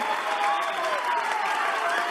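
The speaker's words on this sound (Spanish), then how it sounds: "Te repetimos ahí este aplauso" A studio audience applauding on a Spanish-language talk program, a short burst of steady, dense clapping with no voices over it.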